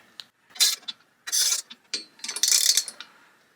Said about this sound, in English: And then take your wrench. This happens to be a 5/8 inch wrench.